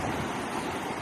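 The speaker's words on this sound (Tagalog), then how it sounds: "Tsada kayong hangin, ang mga balud." Ocean surf washes steadily near a small island under a rushing gust of wind, a dense, continuous roar with no voices.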